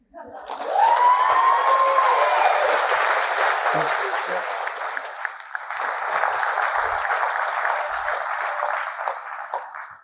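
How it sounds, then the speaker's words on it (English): Applause for a speaker at a Games for Change talk, a crowd clapping steadily for about ten seconds, with a brief whoop near the start and a slight dip midway before swelling again. "Oh, we got time for some more applause for Jae"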